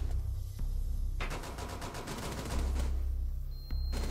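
Rapid pistol gunshots in Rainbow Six Siege ring out in a dense burst of sharp cracks over steady game background noise, loud and close, with a final isolated shot near the end.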